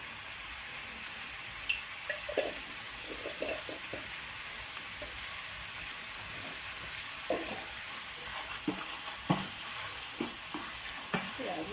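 Seasoned minced meat sizzles in a pan for a Töngül pizza topping while a spoon stirs and scrapes through it in irregular bursts, a steady close frying hiss underneath and no voices.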